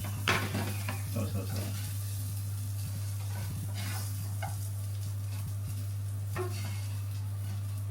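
Food being mixed in a pan, with soft scraping stir strokes and a light sizzle over a constant low hum, loudest near the start; a brief voice is heard.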